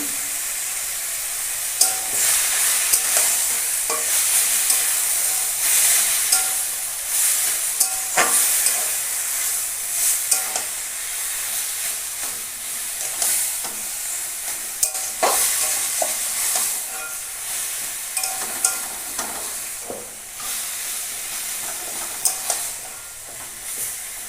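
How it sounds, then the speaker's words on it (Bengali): Boiled taro leaves with salt and turmeric powder frying in a pan, a steady bright sizzle with repeated scraping stirs throughout, close and fairly loud with no voices. "কচু শাকটা দিয়ে দেবো লবণ দিয়ে দেবো হলুদ গুঁড়ো"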